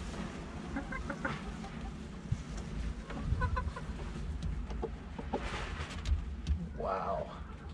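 Blue Shamo hens cluck in short bursts around a yard, mid-distance over a steady outdoor background, with occasional faint human voices.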